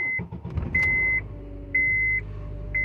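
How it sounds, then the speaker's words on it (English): A Honda Accord with a cylinder misfire cranks and catches into a low, rough idle, while a dashboard chime beeps in repeated, evenly spaced tones over the running engine. "I'm gonna turn on the vehicle."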